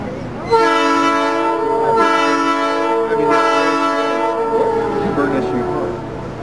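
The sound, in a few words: train passing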